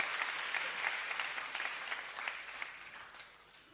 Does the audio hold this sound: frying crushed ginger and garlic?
no